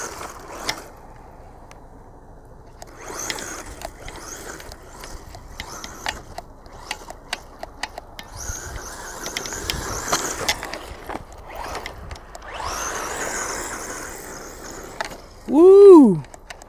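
Brushless 4x4 Enoze 202E RC buggy driving outdoors, with scattered mechanical clicks and rattles over a low background, then a loud rising-and-falling motor whine as it speeds past near the end; a voice cheers briefly.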